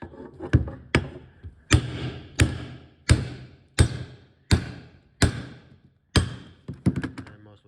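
A hammer strikes parts off a vehicle axle in roughly nine heavy, evenly spaced blows, each a sharp close metallic thunk with a brief ringing tail.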